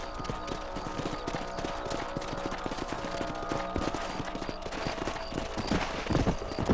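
Horse hooves clip-clop steadily in a quick riding rhythm in the Red Dead Redemption video game on PC, with a faint voice briefly under the hoofbeats.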